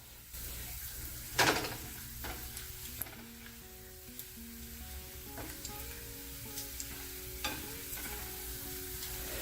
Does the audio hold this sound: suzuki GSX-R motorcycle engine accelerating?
no